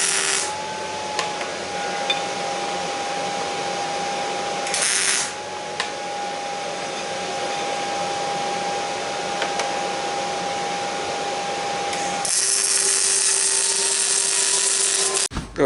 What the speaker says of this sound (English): Now we're going to cut our straps that'll go to the hat channel on the bed